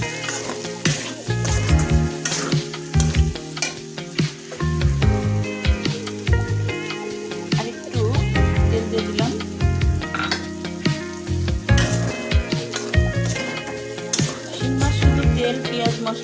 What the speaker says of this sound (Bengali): মাছটা আমি ভালোভাবে নাড়াচাড়া করে নিচ্ছি। পেঁয়াজ দিয়ে ভেজে নিচ্ছি।